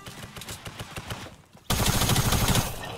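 Gunfire in the video game Fortnite: a string of quick shots followed by a sudden, loud, sustained blast close by, with no talking.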